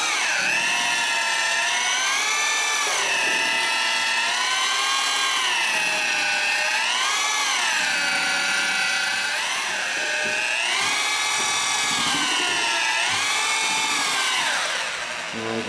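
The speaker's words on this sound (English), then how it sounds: "You definitely want a variable speed drill to do this so that you can" A variable speed drill with a mixing paddle whips drywall joint compound, its motor whining steadily and rising and falling in pitch as the speed is eased up and down, loud and close with no talk.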